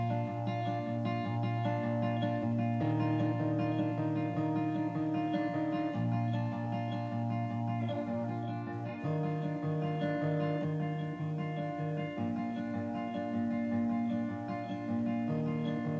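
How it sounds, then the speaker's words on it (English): Delayed guitar signal on its own, panned center: sustained chords and notes repeat and smear into one another as echoes, a steady wash of tone with no dry attack and no voices. "just the delayed signal by itself sounds like this"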